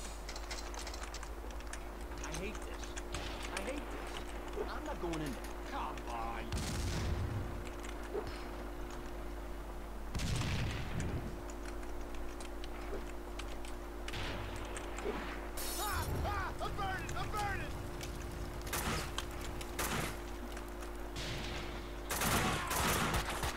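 Bursts of gunfire crack repeatedly during a shootout at a police station in the Max Payne 2 video game, sharp shots and short volleys scattered over a continuous low hum, with no talk.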